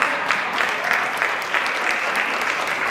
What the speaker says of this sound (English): Give Monica another round of applause.